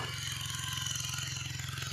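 A machine engine runs at a farm, its steady, rhythmic low chugging continuing evenly throughout at moderate volume with a faint mechanical clatter.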